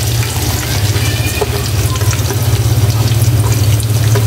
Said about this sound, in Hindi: प्याज को हल्का सा जो है फ्राई करते हैं